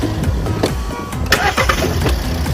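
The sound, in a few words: car engine starting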